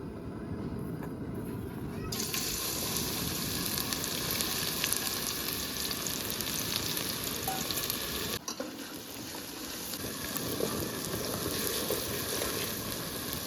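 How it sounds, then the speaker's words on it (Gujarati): Onion frying in hot oil in a home kitchen pan, giving a steady, fairly quiet crackling sizzle that runs throughout with no pauses. "તેલ ગરમ થઈ જાય પછી આપણે એમાં નાખવાની છે ડુંગળી"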